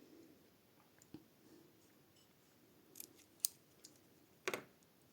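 Scissors snip leftover yarn at the end of a crochet piece, with a few quiet, sharp clicks spread out and one louder double snip near the end, over faint background cooing.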